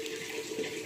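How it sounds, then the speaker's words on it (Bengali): Water pours steadily into a pot of simple vegetable curry cooking on the stove, a soft continuous trickle heard up close and fairly quiet. "হয়ে গেছে, এবার আমি জল দিয়ে দেবো।"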